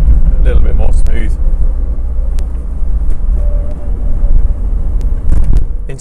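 A Triumph TR7 engine idling as it warms up, a steady low rumble close by with occasional knocks and clicks, and a voice talking briefly early on.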